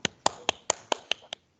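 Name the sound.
round of applause for webinar panelists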